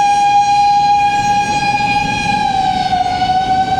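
A truck's loud siren wails in a steady, sustained tone with strong harmonics and a slight pitch drift as it passes close by, continuous for the whole stretch with no talking.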